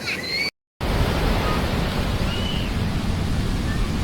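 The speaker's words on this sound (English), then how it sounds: "Wow, look at those waves." Ocean waves break on a beach on Isla Grande, Brazil, a loud, continuous wash of surf after a brief dropout near the start, with no voices.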